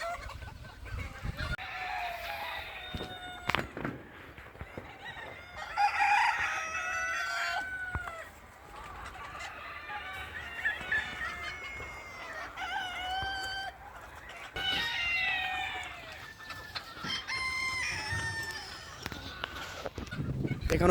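Chickens cluck and a rooster crows repeatedly around a farmyard that also keeps goats, with overlapping calls from several birds and some goose-like honks, fairly close and continuous throughout.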